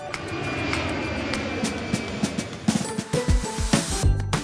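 A propeller airplane engine sound effect from a kids' vehicle puzzle video game drones steadily, then gives way to loud, punchy jingle hits and chimes.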